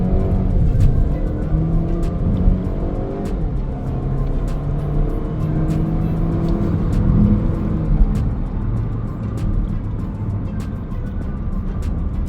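A Haval H6 1.5 turbo SUV in sport mode accelerates hard from standstill to 100 km/h, its engine note climbing steadily through rising gear sweeps with steady road and wind roar throughout.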